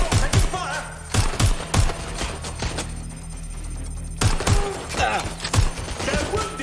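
Gunfire from a Watch Dogs Legion firefight, sharp repeated shots and bursts landing in loud clusters with brief gaps, over a low game ambience.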